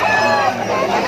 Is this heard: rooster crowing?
yes